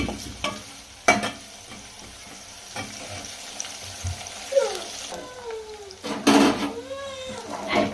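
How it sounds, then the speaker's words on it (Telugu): Fish frying in a pan makes a steady close sizzle with occasional louder spits and clatters, while faint background voices and a brief meow-like sound come through. "చేపలు అయితే బాగా ఫ్రై అవ్వాలండి."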